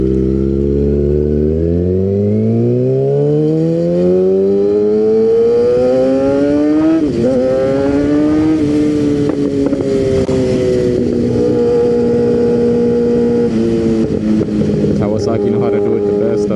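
A Kawasaki mini motorcycle engine accelerates while riding, its pitch climbing through the gears and then holding at cruise. Loud and close, with wind noise throughout.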